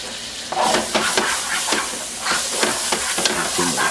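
Shallot and mushroom mixture being stirred into a roux in a pan for lobster thermidor, close wet sizzling with repeated scraping and squelching strokes of the spoon in an irregular rhythm.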